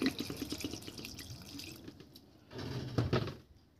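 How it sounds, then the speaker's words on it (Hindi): A glass of water is poured into a vessel holding bael fruit pulp for a summer juice, giving close splashing and gurgling in two bursts separated by a brief quieter gap. "अब इसमें डाल देंगे हम एक गिलास पानी।"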